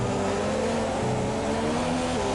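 A Formula 1 race car engine in a racing video game at the Abu Dhabi Grand Prix holds a loud, steady, high-pitched drone with layered harmonics throughout, with no talk over it.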